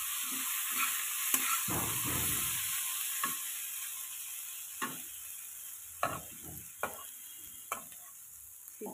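Potatoes frying in a pan, a soft steady sizzle broken by occasional stirring scrapes and taps of a utensil.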